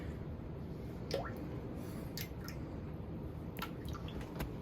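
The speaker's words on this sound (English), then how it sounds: "I'm letting a ton of water run through the septic system right now" Water drips and trickles through a toilet into a septic system, faint and close, with scattered light drops and squishy splashes over a low steady wash.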